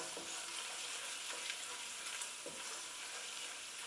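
Fresh spring herbs fry gently in a pan for a vegetarian puttanesca-style sauce, giving a soft, even sizzle with a few light crackles and stirring scrapes, heard alone and close.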